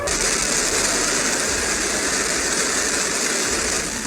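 A Blue Origin New Shepard rocket engine ignites at liftoff, a loud, steady roar with hissing broadband noise and a low rumble underneath that holds without a break.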